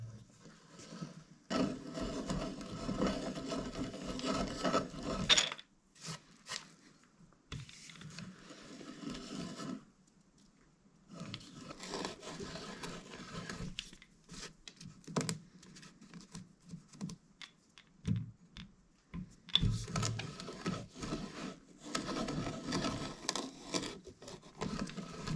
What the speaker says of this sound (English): we're going to use our hand crank saw drill and countersink this just a little bit